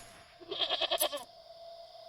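A goat in the video game Wytchwood gives one wavering, pulsing bleat lasting under a second. It sits over a steady electronic tone and quiet game ambience.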